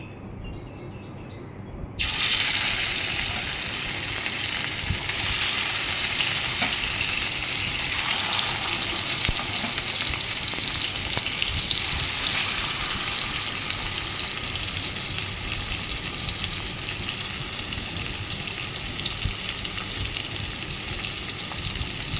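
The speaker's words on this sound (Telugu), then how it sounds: "ఇక్కడ నూనె మరగబెడుతున్నాను నేను." Cooking oil heating in a pan for frying fish gives way, after a quiet couple of seconds, to a loud, steady sizzling hiss that carries on unbroken with no talking.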